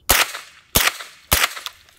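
A Zenith ZF5 fitted with a Rugged Obsidian 45 suppressor fires three supersonic rounds at a steady pace. Each is a sharp, close, muffled crack that fades quickly before the next.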